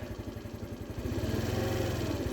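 A Baotian scooter's GY6 engine chugs in a steady low pulsing rhythm, bogging down as the throttle is turned, then growing slightly louder and rougher; close and continuous, with no talking.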